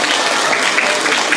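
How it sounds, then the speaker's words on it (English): A group of children at a youth retreat gives a big round of applause, loud and dense, close and continuous. "give all the group a big round of applause"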